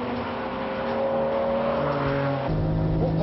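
A Ferrari F50 and Porsche 911 GT2 rev loudly and climb in pitch, accelerating hard up a 10% uphill out of a final corner, with a gear change midway and the roar continuing strongly.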